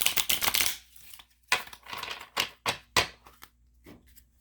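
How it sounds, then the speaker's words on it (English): Crisp rustling bursts of oracle cards being shuffled, a rapid flurry followed by several separate riffles and taps, close to the microphone with no talking. "Let's do another good shuffle."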